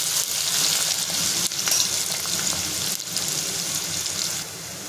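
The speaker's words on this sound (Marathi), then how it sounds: "कांद्याला छान सोनेरी रंग येईपर्यंत परतून घेणार आहे।" Onion frying with garlic in a pan for chole masala, a loud continuous hiss and sizzle close by, with a few soft clanks of stirring and no voices.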